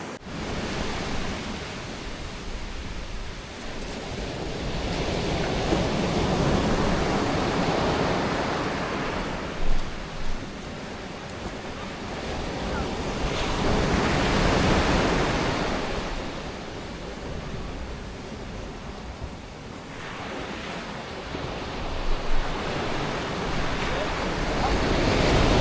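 Ocean surf rolls and crashes in broad, repeating swells on Watu Bela beach in Sumba, Indonesia, with steady wind rushing across the microphone.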